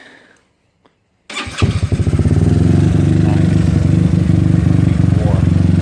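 A GY6 scooter engine cranks and catches after the manual choke is lifted, then settles into a steady, loud, close idle with a rapid rhythmic putter.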